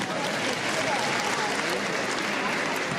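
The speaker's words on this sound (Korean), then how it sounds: "오늘 여러분 다시 한번 힘찬 박수를 부탁드리겠습니다" At a World Beauty Festival opening ceremony, a large audience gives loud, continuous applause, a thick, even roar of clapping with crowd noise mixed in.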